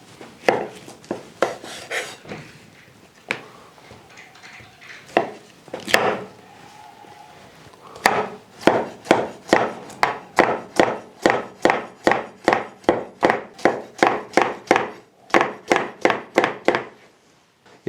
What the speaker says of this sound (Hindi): ये 2 खीरे हमने काट लिए।